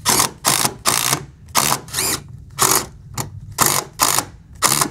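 Structural screws driven one after another into a metal joist hanger on a deck frame, a run of about ten loud, close whirring drill bursts with short gaps between them, no talking.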